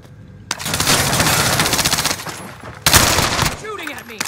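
Rapid machine-gun bursts from a video game shootout, two long close-range strings of automatic fire separated by a short pause, with faint voices under them.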